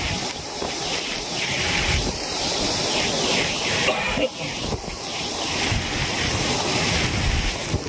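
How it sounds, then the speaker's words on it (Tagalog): Big waves and strong wind at sea during Typhoon Kabayan, heard from a small boat: a loud, constant roar of surf and gusting wind buffeting the microphone, with voices faintly audible in the din. "Laki ng alon, no?"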